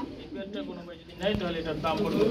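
Black Huma pigeons coo at a bird market, their soft throaty calls repeating close by while people talk over and around them.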